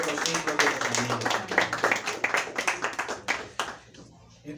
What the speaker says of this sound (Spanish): Y le damos un aplauso al que vive y reina por los siglos de los siglos.